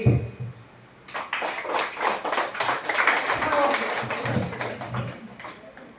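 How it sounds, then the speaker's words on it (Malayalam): An audience at a summer camp session claps hands, a dense, steady patter of many hands that starts abruptly after a quiet second and keeps going at a fairly even level to the end. "ഒരു കൈയടിക്കാം"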